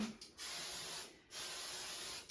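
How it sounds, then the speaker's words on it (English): Tresemme extra hold hairspray hisses from an aerosol can in two bursts, a short one then a longer steady spray after a brief pause, close and fairly quiet. "I just got the Tresemme hairspray, extra hold"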